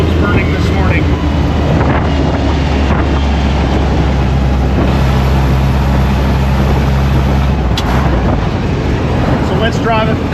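A Jeep with its doors and top removed drives on a cool early summer morning, its engine droning steadily with wind buffeting the open cabin throughout.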